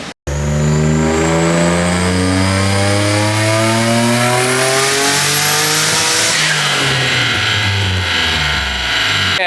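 A car on a dyno makes a full-throttle pull, the engine roaring loud and close as its pitch climbs steadily for several seconds before a shift and a sustained high-rev howl.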